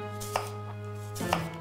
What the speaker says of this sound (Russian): Лук нарезаю кубиком.